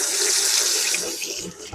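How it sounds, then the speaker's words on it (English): Cold tap water runs steadily into a sink while a bell pepper is rinsed under it, a continuous close splashing hiss with no talk over it. "Let's rinse our bell pepper"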